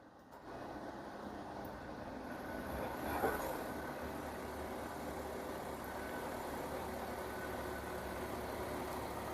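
A Genesis G80 2.5 sedan, started remotely, idles with a steady low engine rumble that swells slightly at start-up and then holds even and moderately quiet.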